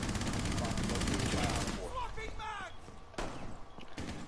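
Rapid automatic gunfire from the video game Rainbow Six Siege rattles in dense bursts for about two seconds. Quieter game sounds follow, and a voice is heard faintly underneath.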